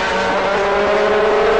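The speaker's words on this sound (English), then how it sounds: "Right up behind car number 12, the Auto Orlando Porsche, Giovanni Sada and Giuseppe Ciminelli" GT race cars, including the number 12 Auto Orlando Porsche, race along the Vallelunga circuit in the 2007 GT Open. Their engines make a loud, steady, close-up roar that holds constant throughout.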